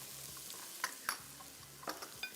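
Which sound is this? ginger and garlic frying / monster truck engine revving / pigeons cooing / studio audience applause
ginger and garlic frying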